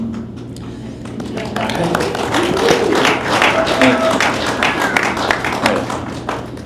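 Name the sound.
audience clapping for event co-sponsors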